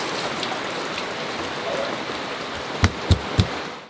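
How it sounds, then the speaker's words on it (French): Heavy rain on a sailboat in the Caribbean, a dense, steady hiss close by with three sharp knocks near the end. "là ça pleut très fort pour la deuxième fois en même pas une heure"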